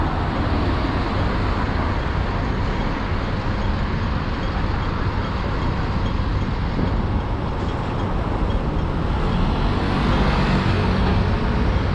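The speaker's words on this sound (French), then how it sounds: "Les voitures font plus de bruit." Steady roar of road traffic in Hong Kong, cars passing continuously at close range with a constant rumbling wash of engine and tire noise, no voices.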